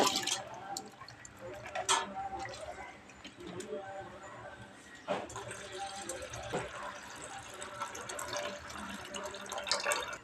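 Lentils and rice are being washed in a bowl of water, with soft, faint sloshing, dripping and trickling sounds that come in uneven bursts, nearby and low in level.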